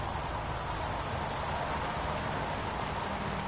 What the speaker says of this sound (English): Hasn't stopped pouring since I arrived.